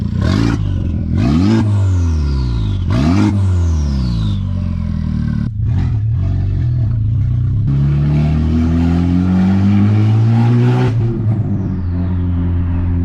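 Honda Civic Type R with a titanium turbo inlet pipe, loud close engine revving with whooshing turbo spool rising and falling in repeated pulls, strong throughout.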